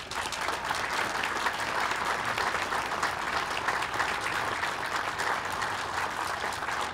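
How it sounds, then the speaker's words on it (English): Sustained applause from a crowd at a ceremony, dense, even clapping from many people holding at a steady level throughout, fairly loud and continuous. "We owe them a round of applause,"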